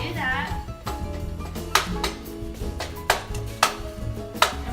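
Ground meat is browned and broken up in a pan, with a spatula striking the pan in several sharp taps at irregular intervals over a low sizzle. The taps are close and clear.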